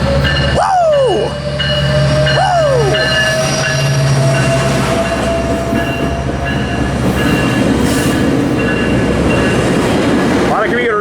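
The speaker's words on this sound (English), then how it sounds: "Here comes 942 leading this 91 line Metrolink." A Metrolink commuter train on the 91 line rolls past close by, a loud steady rumble of wheels on rail with two sliding horn-like squeals near the start and talk mixed faintly underneath.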